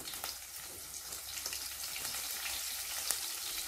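Spices like asafoetida, green chilli and fennel seeds frying in hot oil over high gas for kadai kachori, a steady bright crackling sizzle throughout with small pops, close and fairly quiet, no talking.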